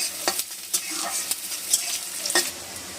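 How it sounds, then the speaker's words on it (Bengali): Onion and garlic sizzle quietly in a pan, with soft scraping stirs and small bursts of crackle every so often. "পেঁয়াজ রসুনটা ভালোভাবে ভাজা হয়ে গেছে"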